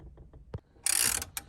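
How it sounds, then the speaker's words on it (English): A ratchet clicks while loosening the 10 millimeter bolts that hold a car stereo unit. A few soft clicks come first, then a short, loud burst of rapid ratcheting, all close up with no talking. "So let's go ahead and unbolt those,"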